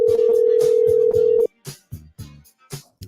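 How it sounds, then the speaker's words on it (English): A telephone line sounding a steady tone for about a second and a half on an unanswered call, then cutting off, followed by short bursts of talk. "Dr. D Nice, are you not answering your phone?"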